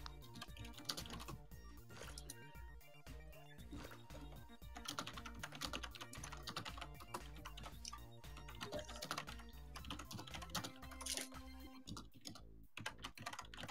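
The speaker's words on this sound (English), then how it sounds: "No, I'm typing in chat." Rapid clicking of computer keyboard typing during a live game-map building stream, a continuous busy patter of keystrokes with dense layered background sound around it and no talk.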